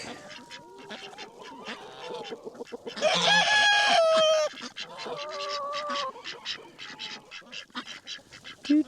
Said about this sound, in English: You are a handsome little black duck.